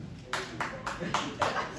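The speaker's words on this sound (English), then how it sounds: "I usually get one clap out of there" A few separate claps, close together and fairly quiet, rising over a murmuring audience at a comedy show with people talking underneath.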